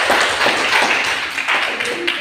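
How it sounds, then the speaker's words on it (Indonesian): A classroom of students claps for a classmate in a short, brisk burst of applause, many hands patting quickly and loudly for about two seconds. "Tepuk tangan untuk Feby."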